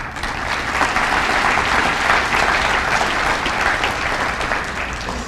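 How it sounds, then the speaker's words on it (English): Guests at a senior awards banquet give a round of applause, continuous dense clapping from a roomful of people, steady and fairly loud from start to finish. "So you all deserve a round of applause."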